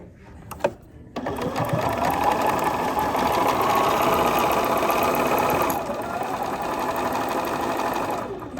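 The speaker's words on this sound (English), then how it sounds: "so we're going to start sewing this" A sewing machine stitches a quilt block, its needle running in a steady, close, continuous mechanical whir for several seconds after a brief click and pause, with no voices.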